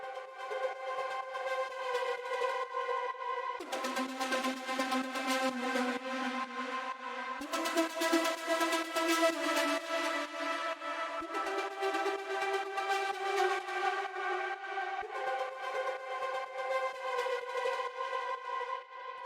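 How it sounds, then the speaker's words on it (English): Chopped horn sample layer, pitched in separate pieces and processed with effects for a progressive trance track, sustains bright brassy chords that shift pitch in distinct sections, moderately loud and continuous with no voices. "what did the most was this cool horn sound I found"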